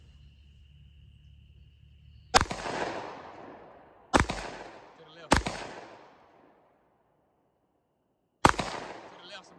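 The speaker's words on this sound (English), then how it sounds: "How many you want me to shoot? You can shoot the whole clip, slow or fast." Four loud, sharp gunshots from an AR rifle chambered in .223/5.56 ring out one at a time at irregular intervals, each trailing into a reverberant tail, after a quiet lead-in with a faint insect-like whine.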